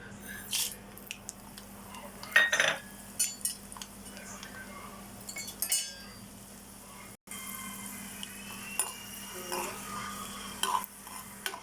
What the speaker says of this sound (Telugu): ఇప్పుడు పోపులు వేసుకుంటున్నానండి.